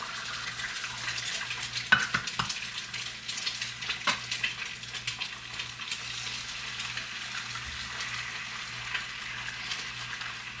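Organic eggs fry in a pan, giving a continuous close sizzle with scattered clicks and taps of a utensil against the pan, and a low steady hum running underneath throughout.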